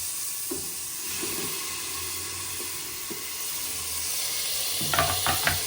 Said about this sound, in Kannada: ಈರುಳ್ಳಿ ಚೆನ್ನಾಗಿ ಫ್ರೈ ಆಗಲಿ. ಇವಾಗ ಇದಕ್ಕೆ ಟೊಮೆಟೊ ಹಾಕ್ಕೊಳ್ತೀನಿ.